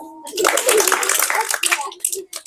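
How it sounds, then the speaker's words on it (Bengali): An audience at an outdoor prize game claps loudly and unevenly for a couple of seconds, with a dense patter of many hands. Voices mix into the applause. "হাততালি দেন।"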